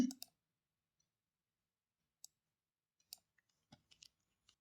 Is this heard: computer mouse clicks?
yes